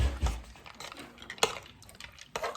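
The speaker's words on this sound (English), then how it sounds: "I'm just going to give that a stir" A pot of home-cooked food with meat being stirred, giving a few soft clinks and scrapes of a spoon against the pot along with faint wet sloshing, close and fairly quiet.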